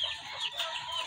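Chickens in a layer coop cluck steadily and close together, a dense overlapping chatter of several hens with a rooster-like call rising now and then, fairly faint and continuous.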